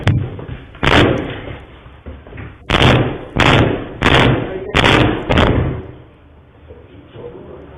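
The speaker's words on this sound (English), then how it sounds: "Oh, they kicked mad doors open" Doors being kicked open in played footage: a series of loud sharp bangs and thuds, about six impacts in irregular succession, each followed by brief rumbling reverberation.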